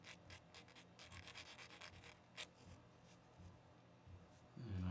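Sanding a plastic part of a push-to-fit Stormcast Eternal miniature: soft, repeated rubbing and scratching strokes close by, fairly quiet and steady, with a low thump near the end.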